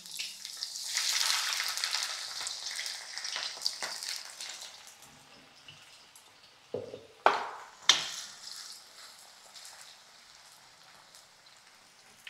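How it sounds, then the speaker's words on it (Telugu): Chopped onions drop into already hot oil and fry with a steady, close sizzle that fades gradually, broken near the end by a few sharp stirring clatters. "ఆల్రెడీ వేడిగా ఉన్న ఆయిల్లోకే ఆనియన్స్ వేసేసుకుందాం."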